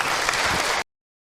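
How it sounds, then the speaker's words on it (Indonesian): Applause for a woman at an Indonesian Ramadan religious talk, a dense burst of clapping from the audience that cuts off abruptly after under a second. "Tepuk tangan buat Ibu Yuni."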